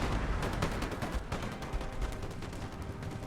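Rapid bursts of rifle and machine gun fire in a French assault during an online historical war game battle, dense overlapping shots crackling continuously at moderate distance with no voices.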